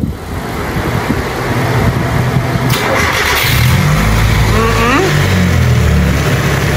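A Nissan B14 engine cranks and catches, then settles into a loud idle and climbs through a couple of revs, close by, with a brief voice heard over the start.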